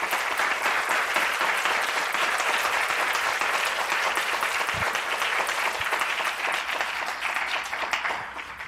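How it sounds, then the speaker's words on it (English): Sustained applause from an audience at a nursing candle lighting ceremony, honoring a nursing graduate; dense, steady clapping fills the whole stretch, loud and continuous, fading slightly near the end. "if I could just have the graduates just give a round of applause for support of Katie"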